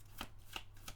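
Tarot cards are handled and drawn during a reading, three soft, quick card flicks spaced evenly within a second, faint and close in a quiet room.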